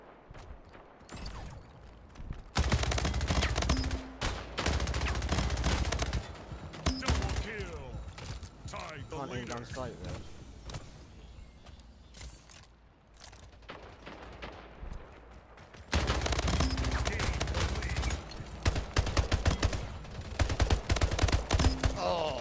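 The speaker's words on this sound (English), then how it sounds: "I've never tried the SMG" Rapid SMG gunfire in a Splitgate Team Deathmatch, loud and dense bursts of automatic shots over a busy game mix, with a player talking over parts of it.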